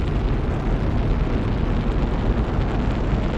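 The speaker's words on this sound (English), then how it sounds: "At 0, the solid rocket boosters were ignited, and the explosive bolts that hold the shuttle stack to the pad detonated." Space shuttle solid rocket boosters igniting at launch, with the explosive bolts holding the stack to the pad detonating, heard as a continuous loud, dense roar with no break.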